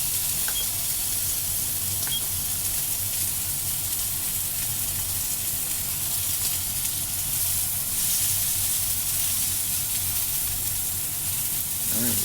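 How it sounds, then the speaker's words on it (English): Pork loin, cooked sous vide, searing in hot oil in a pan, a continuous dense sizzle held close and steady throughout with a faint stir near the end. "Put that right in the edge of the oil here. Cook that up pretty quick."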